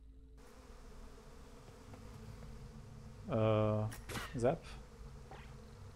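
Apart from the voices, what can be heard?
buzzing bees in a video game (Psychonauts 2)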